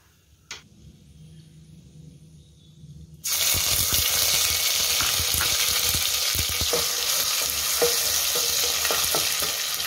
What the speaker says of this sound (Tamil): இஞ்சி பூண்டு போட்டு நல்லா வதக்கிறோமா?